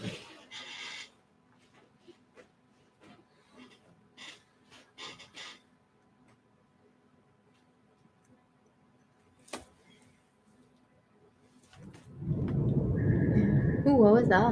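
Thunder swells into a deep, heavy rumble near the end. Earlier come scattered faint knocks and movement sounds.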